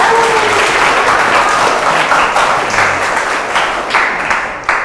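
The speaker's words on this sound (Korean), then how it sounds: "큰 박수 부탁드립니다" A crowd at a public Friday science lecture in Seoul claps loudly and continuously to welcome a university professor, with the applause tapering slightly toward the end.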